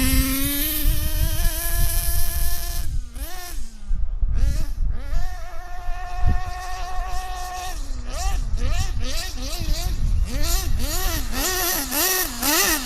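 A small nitro model helicopter engine screams at high pitch, revving up and down repeatedly in rapid, wavering bursts, loud and close.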